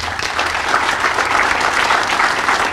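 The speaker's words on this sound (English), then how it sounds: "let's give her a round of applause." A crowd applauds steadily at the grand opening of a Catholic Charities center, thick and even clapping filling the whole stretch.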